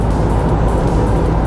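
A Renault with an EDC6 dual-clutch gearbox driving on the road, its engine drone loud and steady around 1600 to 1700 rpm while it changes gear, with no audible talking.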